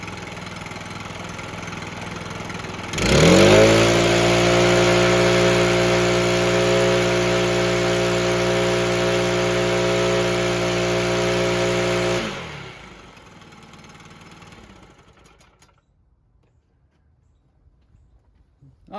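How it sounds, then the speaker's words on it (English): A Stihl BR800 backpack blower engine roars at full throttle, starting abruptly with a rising whine, holding a loud steady drone for about nine seconds, then cutting off and winding down into quiet. "Ran it for about 10 minutes and it never wavered on full throttle."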